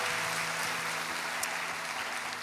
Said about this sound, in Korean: 우리 신실하신 주님께 감사와 영광의 박수 올려드립니다.